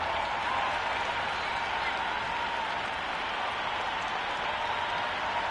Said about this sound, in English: this crowd is already making it hard for me to be heard.